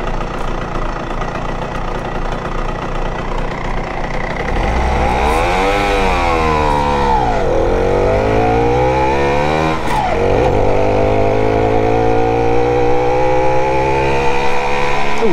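An SR2 moped engine pulls while riding on a lakeside route near Leipzig, a loud, buzzing two-stroke note that climbs and dips in pitch as the revs rise and fall through the gears, close and continuous.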